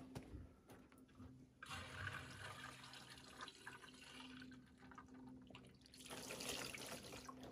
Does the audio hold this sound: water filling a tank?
yes